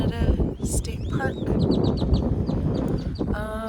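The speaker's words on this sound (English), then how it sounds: "listening to the birds sing and eat right over there." Birds chirp and sing in repeated short, bright calls at a state park outside Glen Rose, Texas, close by and fairly loud over a constant outdoor background.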